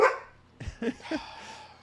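A dog barks a few times in quick succession at moderate distance, short sharp yaps standing alone with no talk over them.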